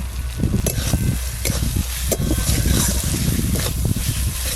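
Beaten sour yogurt goes into a frying mix of turmeric, cumin powder and dried chilli paste for a silver carp curry, giving a steady close sizzle and bubbling with stirring scrapes throughout, no talking.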